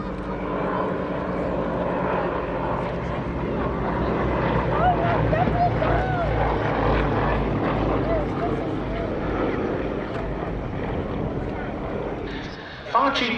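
A Soviet-built light aircraft flies at the East Kirkby airshow, its engine droning loudly and steadily as it passes in toward the crowd, while an announcer talks over the sound throughout.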